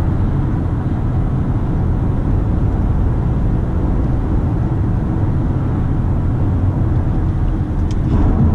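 A 2018 Audi A4 FWD Premium driving in dynamic mode, a steady, loud road and engine drone from inside the cabin holding even throughout.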